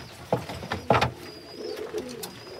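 A racing pigeon coos close by, a few soft throaty calls with small chirps and light rustling between them.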